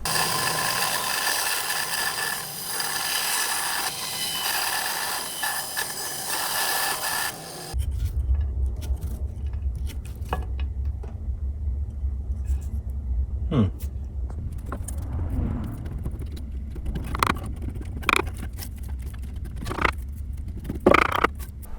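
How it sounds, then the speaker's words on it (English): A bandsaw cuts through solid wood being used for lure making, giving a loud, steady buzzing rasp for about eight seconds. Then the cut stops, leaving a low motor rumble and scattered small clicks. "Let's try the bandsaw."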